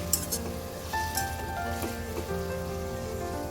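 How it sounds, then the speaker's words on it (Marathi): Onions fry toward golden brown for biryani in a pan with the gas on full, giving a steady, moderate crackling sizzle with faint clinks and no voices. "कांदा मस्त खमंग असा गोल्डन ब्राऊन तळून घ्यायचा."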